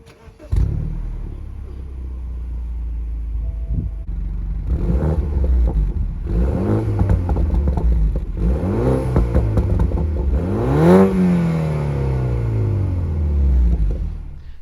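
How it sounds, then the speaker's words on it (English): A BMW Z4 roadster with a 2-litre four-cylinder engine and twin exhaust starts up nearby, then revs repeatedly with rising and falling sweeps, a deep rumbling idle underneath and occasional pops, loud and close throughout. "I'm going to start it up so you can hear what it sounds like."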